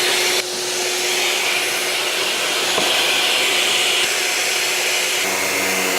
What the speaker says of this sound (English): when you start the sander, you want to start it above the tool and bring it down to your workpiece